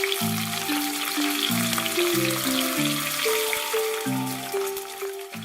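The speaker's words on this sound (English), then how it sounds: "So let me flip all the pieces and cook the other side for another 5 minutes in a medium heat." King fish pieces shallow frying in a pan give off a steady, close sizzle and crackle, heard alone beneath light background music.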